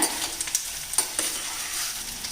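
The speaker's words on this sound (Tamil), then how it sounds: "இப்போ இது நல்லா பரட்டி விட்டுக்கலாங்க" Masala for mutton chest-bone soup sautéed and stirred in a cooker, a close steady sizzle broken by light scraping taps of the spoon.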